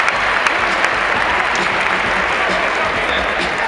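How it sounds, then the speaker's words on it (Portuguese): An audience at a tech conference applauds loudly and continuously, a dense, even wash of many hands clapping close by that holds steady the whole time. "não era preciso bater palmas"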